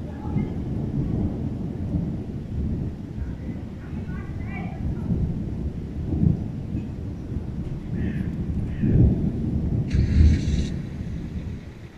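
Thunder rumbling low and long during a rain storm, rising in a few swells over steady rain and wind noise outdoors.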